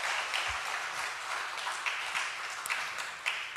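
A church congregation claps during a Sunday service after a worship leader is introduced, a soft, steady wash of applause heard from a distance with no talk over it.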